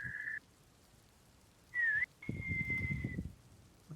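A person whistles in short tonal bursts: a brief steady note, a pause, then a quick rising-falling whistle and a long sustained note, with light background rustle and low noise beneath.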